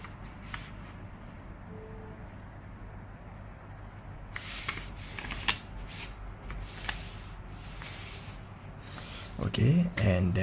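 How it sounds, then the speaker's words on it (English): Paper for a DIY wallet is folded and creased by hand, giving soft, close rubbing and rustling that grows busier and crisper near the end, with a voice talking at moments. "fold the right side to the middle line"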